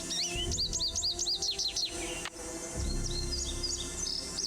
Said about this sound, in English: American goldfinch.